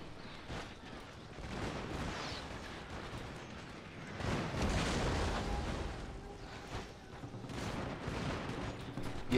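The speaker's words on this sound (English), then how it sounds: "Cannon." Cannon fire during a battle in the strategy game Shogun 2: Total War, a dense rumbling barrage of booms and crackling volleys that swells louder midway and continues throughout, with no talk over it.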